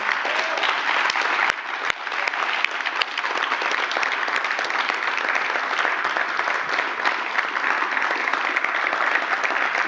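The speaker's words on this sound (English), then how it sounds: "Can we give ourselves a round of applause here?" Steady applause from an audience fills the whole stretch, dense and even clapping at constant loudness with no pauses.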